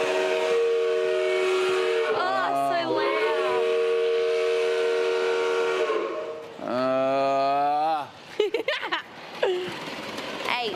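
A loud, sustained train whistle blares for several seconds at an arriving city train, then sounds again in shorter, wavering blasts, with a voice breaking in near the end.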